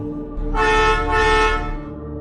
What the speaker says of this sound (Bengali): তবুও ওই গাড়িটি হর্ন দিয়েই যাচ্ছিল।